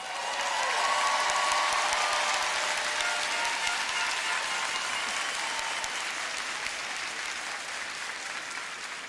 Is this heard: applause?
yes